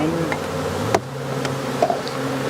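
Steady low insect buzzing from many honeybees, with a few faint ticks and taps on top, fairly close and continuous throughout.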